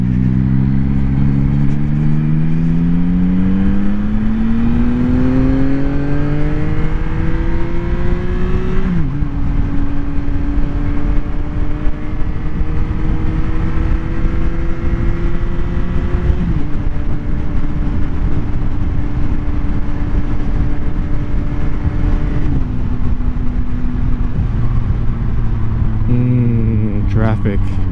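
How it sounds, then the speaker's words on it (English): Road traffic around Dulles, heard from a moving rider: a steady vehicle engine climbs in pitch and drops at each gear change, under constant wind roar and traffic noise. "Traffic."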